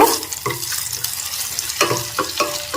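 A spoon works grated garlic around a hot pan, giving a steady soft sizzle broken by several scraping stirs, close and moderately loud, with no voices.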